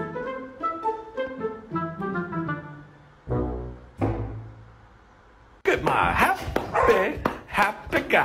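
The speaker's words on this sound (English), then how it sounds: "Oh, the happy dog." Happy dog barking and yipping in quick repeated bursts close by, with a whimpering stretch, followed by excited voices talking over it.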